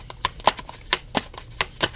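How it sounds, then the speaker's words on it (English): Tarot cards are shuffled in quick, uneven bursts of crisp riffling slaps and flicks, close and fairly loud, with no talking. "So let's get into the shuffling."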